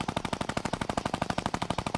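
Rapid automatic gunfire in Fortnite, a tight, evenly spaced stream of sharp shots rattling off without pause, loud and close.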